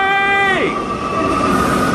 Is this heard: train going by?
yes